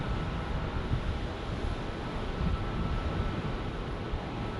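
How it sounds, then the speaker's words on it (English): A Boeing 767 arriving at Phoenix Sky Harbor from Alliance Fort Worth, heard as a steady, broad jet roar with some wind buffeting, constant in level throughout and with no voices. "just in time for the 767 that is arriving from, I believe, Alliance Fort Worth"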